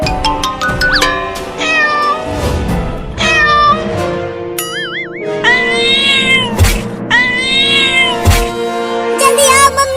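Cartoon cat meowing and caterwauling repeatedly in loud, drawn-out wails with bouncy music and sound effects around them.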